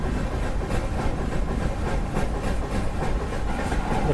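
A high-speed TGV running at around 200 km/h past a diesel locomotive on the line between Ludhiana and Ambala, giving a steady, loud rail roar with faint rhythmic clatter and no pauses.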